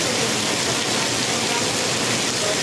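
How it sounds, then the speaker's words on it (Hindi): Heavy downpour in Patna, India, a loud, dense, unbroken roar of rain that fills the whole stretch without letting up. "देखिए फिर से एक बार बहुत तेज बारिश जो है वो शुरू हो गई है।"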